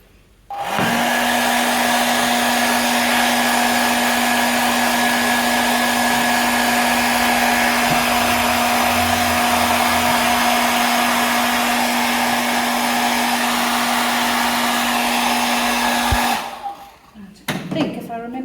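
A hair dryer runs steadily for about sixteen seconds, drying an ink wash painting done in permanent ink, a loud constant whine and rush of air that cuts off near the end, followed by faint handling noises.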